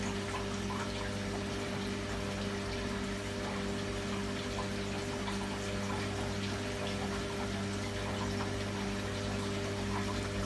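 Cold water rushes into a rinse boiler as it fills, a continuous, even flow of water over a constant pump-like hum, steady from start to finish with no voices.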